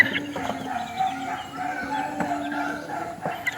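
A Tasmanian Black gamefowl rooster crows close by in one full, loud, drawn-out call with a wavering tone, alone without speech.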